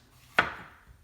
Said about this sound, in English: First, we're going to get started chopping all of our ingredients.